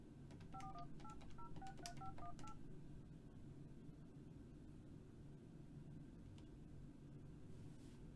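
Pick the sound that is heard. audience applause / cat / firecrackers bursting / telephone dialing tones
telephone dialing tones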